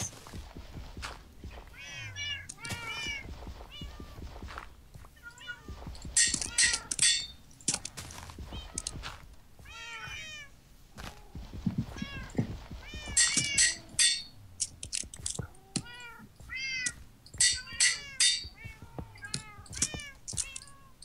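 Pet cats in a Minecraft world meow constantly, with many overlapping short calls in quick succession that rise and fall in loudness, over clicking game mechanics and footsteps.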